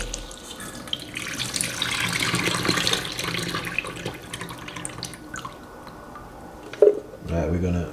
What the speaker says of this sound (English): Put them in my little strainer and wash it.